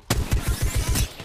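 Rapid automatic gunfire in Apex Legends, a burst of about eight evenly spaced loud shots fired in quick succession, close and alone.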